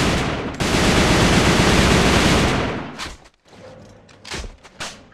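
Grenade blast in a first-person shooter game, a loud sustained burst of noisy rumble for over two seconds, then a sudden drop followed by scattered softer thuds and debris-like clatter.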